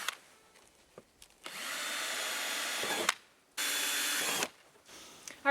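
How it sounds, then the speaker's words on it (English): A power drill bores holes through a plastic sled in two loud, steady bursts of whirring, separated by short pauses and light handling noises. "So I'm just going to drill some holes right through the plastic."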